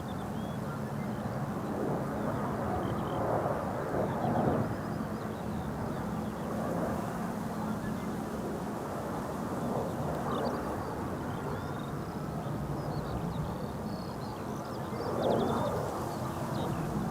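Embraer 190 airliner operated for KLM arriving at Amsterdam Schiphol Airport, a steady broad jet roar with slight swells, fairly distant and continuous with no talk.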